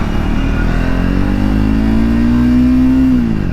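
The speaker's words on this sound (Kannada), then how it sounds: "ನೋಡು 1 ಗೇರಿಗೆ ಎಷ್ಟು ಹೋಗ್ತೈತೆ ಬೈಕ್" A Triumph Speed 400 motorcycle accelerating hard in first gear, its engine note loud and close and climbing steadily in pitch as it revs, then easing off near the end.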